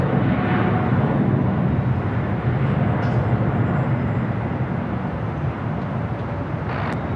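Air New Zealand jet in an all-white livery rolling down runway 25 right at Los Angeles International Airport, a loud, sustained engine roar with a rumbling low end, steady from start to finish.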